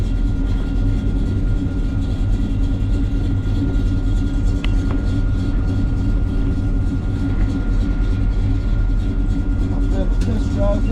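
Steady low engine drone and road rumble from a 1965 Chevrolet Chevelle Malibu with a big-block 396 V8 and B&M shifter on a test drive, heard from inside the cabin, continuous and fairly loud throughout.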